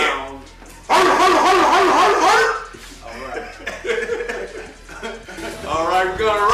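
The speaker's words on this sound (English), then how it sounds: "The dog sound." A dog barking sound effect plays in bursts of loud barks, mixed with chuckling and people talking over and between the barks.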